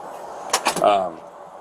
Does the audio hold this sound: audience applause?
no